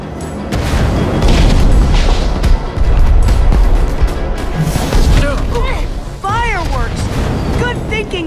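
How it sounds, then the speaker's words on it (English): Loud, continuous booming blasts and crackling bursts of fireworks in Minecraft Story Mode fill the scene, with whistling, rising tones near the end, going off close by. "Fireworks! Good thinking, Lucas!"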